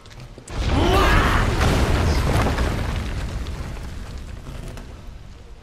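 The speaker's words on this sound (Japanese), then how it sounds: "爆発止まらねえな。" Deep, rumbling explosions go off in the Final Fantasy VII Remake video game: a sudden loud boom that sustains into a rolling roar with creaking debris, slowly fading.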